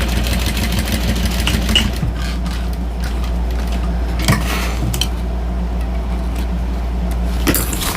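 Sewing machine stitching slowly around a small circle through a thick stack of foam, two fabric layers and ottertex, making a steady close mechanical hum with a low motor drone and faint clicks throughout.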